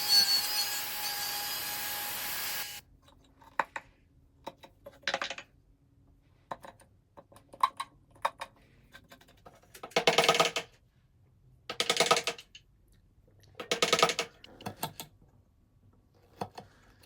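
Hand chisel paring and finishing router-cut recesses in a wooden rustic chess board, heard as short scraping and tapping bursts that repeat every second or two after a brief steady machine noise at the start.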